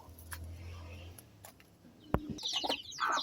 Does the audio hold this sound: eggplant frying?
no